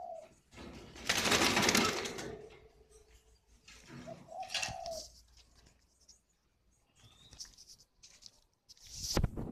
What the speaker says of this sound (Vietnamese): cố gắng cho nó gù xem là nó có gù được không